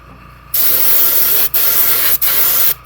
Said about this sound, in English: so our airbrush is hot, and like I said, we'll just go over this entire kit with some dull finish to help seal in the color that we put on already